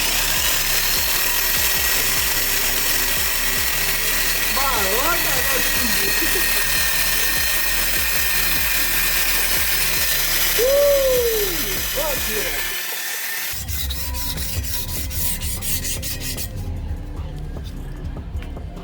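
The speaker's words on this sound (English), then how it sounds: "After 3 rounds of sanding with a 600 grit" 600-grit sandpaper on a spinning drill rasps and whirs continuously against a junkyard car wheel rim, with a voice speaking over it. Near the end the grinding cuts out and the sound shifts.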